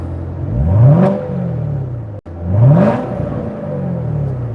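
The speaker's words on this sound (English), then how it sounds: "Let's give it a light rev." Chevrolet Corvette C7 Z06 engine given two light revs while parked, each a rising whir and roar that swells then falls back to idle, close and loud with no talking.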